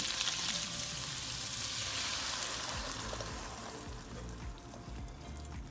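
Meatballs fry in grease in a pan, giving a steady, close, dense sizzle and crackle throughout, with no talking.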